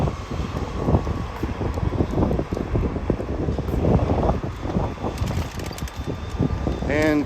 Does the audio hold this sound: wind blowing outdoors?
yes